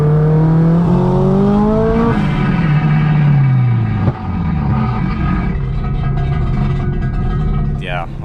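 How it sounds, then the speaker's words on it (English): A 1.8T Mk2 loud on a dyno, engine droning with falling and rising harmonic sweeps as the exhaust breaks loose and scrapes, a sharp clunk midway, then rough roaring and a brief whine at the end. "You can just hear it coming off and scraping."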